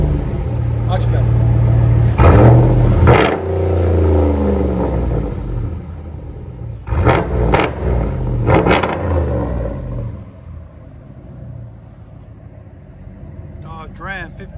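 Dodge Ram 1500 pickup with a 5.7L HEMI V8 and a muffler delete, loud close exhaust rumble with a few sharp revs, settling to a lower idle toward the end.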